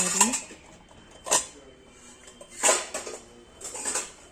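Metal kitchen pots and vessels are handled and nested one inside another, giving a few separate clanks and scrapes spaced about a second apart, close and moderately loud with quiet gaps between them.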